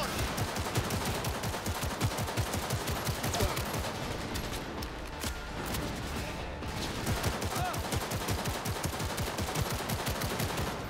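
Rapid automatic gunfire in Cyberpunk 2077, dense and loud bursts of shots repeating almost without pause, briefly easing midway before resuming at full intensity.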